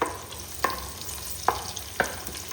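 Ghee frying with crushed garlic and ginger in a clay pot, a soft continuous sizzle broken by three sharp spoon knocks against the pot, close and alone.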